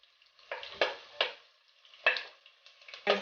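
Onions dropped into hot palm oil for okra stew, sizzling and crackling in several short bursts as they are stirred, close and fairly quiet with no talk.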